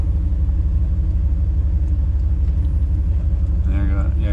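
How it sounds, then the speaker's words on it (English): A truck in the Colorado mountains rolls past with a continuous low engine rumble that holds steady at moderate loudness, while a voice speaks briefly near the end. "Do I recognize that truck?"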